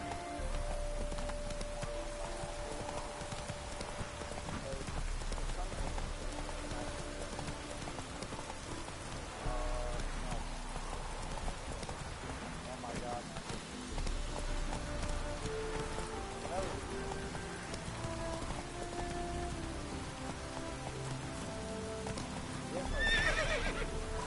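Geralt's horse Roach galloping in The Witcher DLC, a steady clip-clop of hooves with occasional whinnies and rain pattering throughout, while a voice talks over it at times.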